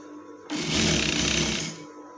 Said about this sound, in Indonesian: Kita jahit ini biar dia kuat.